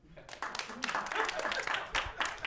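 Comedy show audience clapping, a scattered, moderately loud round of applause that runs throughout, with a voice talking over it.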